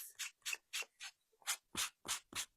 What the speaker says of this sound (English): just to smooth those wood fibers down. Just a light sand.